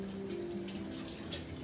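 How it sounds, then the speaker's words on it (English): Running kitchen tap water splashing over hands at a sink, a short, faint steady rush with a low hum beneath. "Wash my hands real quick."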